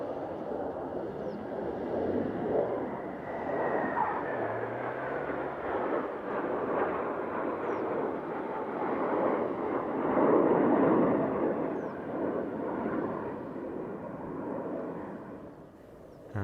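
Black Eagles aerobatic team jets perform an airshow display under a low cloud base, a broad, continuous roar of jet engines rising and falling as the formation passes, heard at a distance without talk.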